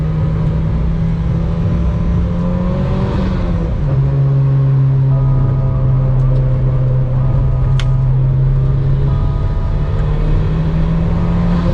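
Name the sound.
2005 Mitsubishi Evo VIII car driving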